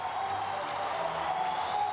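Loud, steady roar of an exuberant ice hockey arena crowd at a USSR versus Minnesota game, a continuous wash of cheering and applause with no clear breaks across the moment.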